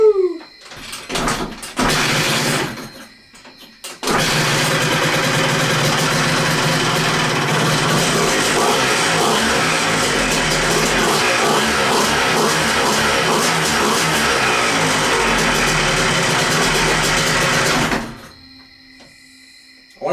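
A racing dirt bike engine fitted in a home-made mini street quad starts after a few clunks and settles into a loud, steady close idle for about fourteen seconds before cutting off.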